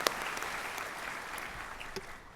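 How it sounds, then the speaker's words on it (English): A graduation audience claps together for the graduating class in a steady, dense round of applause that fills the room and fades slightly toward the end. "Can we get a quick round of applause for everyone?"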